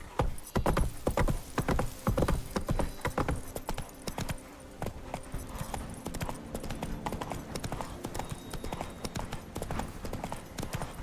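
Hooves of a horse gallop in The Witcher 3: Wild Hunt, a loud, rhythmic clip-clop close by with heavy thuds early on, settling into a steady quicker beat with a faint whinny mixed in.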